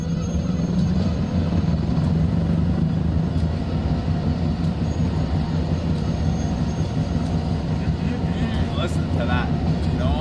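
A train in the Train Sim World 2 video game rumbles along with its brakes still applied during yard shunting, a loud continuous low grinding drone with faint squeals near the end.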